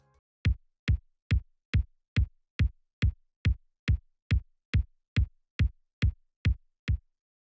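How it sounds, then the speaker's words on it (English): A synth kick drum in an electronic rock synthwave beat thumps once on every beat, sixteen evenly spaced punchy hits, loud and isolated with nothing else playing. "For the kick, I set it to hit on every beat."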